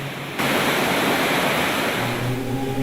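A natural waterfall along a Himalayan mountain route on the Kailash Mansarovar trek rushes steadily, a loud, dense broadband roar close by that fills the whole clip without any voices.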